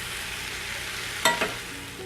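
Nepali potato curry with spices simmering in a pan, a steady low sizzle interrupted by a couple of sharp clinks from a utensil near the middle.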